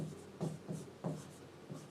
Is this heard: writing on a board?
yes